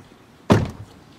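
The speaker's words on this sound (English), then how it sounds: "The door panels evoke that same solid thud like you find in the front" Rear door of a 2015 Nissan Murano SL closing: a single solid, deep thud with a short dull decay, close and clear in an otherwise quiet setting.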